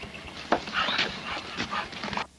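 American pit bull terrier from a game-dog kennel, panting in quick, breathy bursts close by, with a few louder huffs over about two seconds and no talking.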